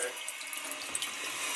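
A household faucet on a well-water system runs with a strong, steady flow, a close, even hiss of water pouring into a sink that lasts the whole moment without a break.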